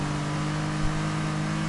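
Car exhaust from a modified car in Need for Speed Heat, a steady low engine drone with a constant tone, held at an even level throughout with a brief bump midway.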